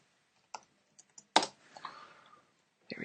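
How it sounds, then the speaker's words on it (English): A few separate keystrokes on a computer keyboard, quiet and sparse, with one sharper click in the middle and a short burst at the end, in an otherwise silent room. "Let me type this in right here."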